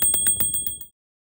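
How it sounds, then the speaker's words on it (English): A bicycle bell on a Retrospec Judd Rev 2 folding e-bike rings in a quick run of about six bright, metallic dings, close and loud, then stops abruptly into silence. "And the best bell in the business."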